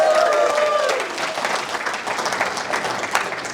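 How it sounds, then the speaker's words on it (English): An audience claps together, a broad burst of applause that thins into scattered claps over a few seconds. "If you're glad to be here, clap one time"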